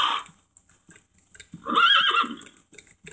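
A horse whinnies loudly in a shaky, rising neigh, with softer snorts and small noises before and after.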